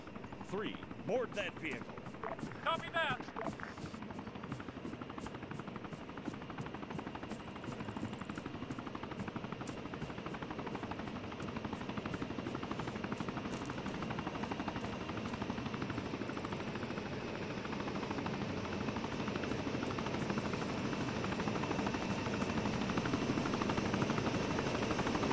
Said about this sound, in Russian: Итак, вертолет прилетел.